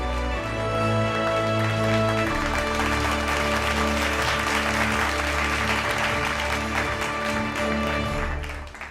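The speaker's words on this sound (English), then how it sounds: "Let's have a huge round of applause as we welcome the team on stage" Loud, sustained applause from a large event audience fills the hall as a startup team walks on stage at a televised healthcare innovation grand finale, with music under the clapping before it fades at the end.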